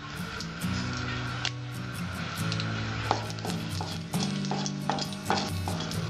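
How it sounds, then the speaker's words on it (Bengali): Dried red chillies crackle and sizzle in hot oil for a Bengali-style vegetable dal tempering, a steady close frying hiss with scattered pops and occasional stirring clinks, no talk. "ফোড়নে দেবো শুকনো লঙ্কা,"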